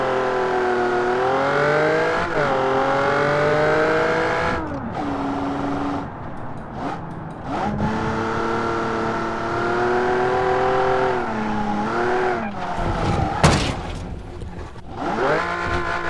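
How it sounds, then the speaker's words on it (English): A car engine in the BeamNG driving game, built with doubled cylinders, revs loudly and repeatedly, rising and falling in pitch with brief drops and a sharp burst near the end, close and dominant with no talk. "Can't talk it because the car's too loud."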